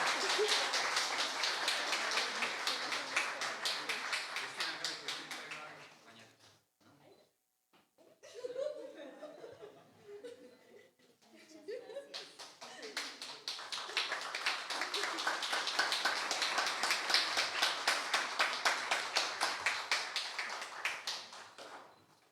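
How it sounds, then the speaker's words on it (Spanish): Sustained applause from an audience at an award ceremony, dense claps rising from the start, dropping away into a quieter stretch with murmurs and laughter, then swelling again into loud, steady clapping to the end. "Un fuerte aplauso para ellos y ellas."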